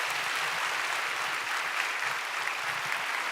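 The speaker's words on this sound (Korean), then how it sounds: "우리 박수해 주심으로써 축복해 주시길 바랍니다" Congregation in a church Sunday service applauding newly baptized members, a steady dense wash of clapping filling the room, with faint low voices or music beneath.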